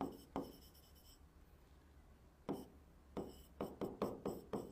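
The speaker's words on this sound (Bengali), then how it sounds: "আচ্ছা তো লিখি" A math formula is written by hand in a quiet room, with a pen or chalk scratching softly and a series of sharp taps and strokes clustered toward the end.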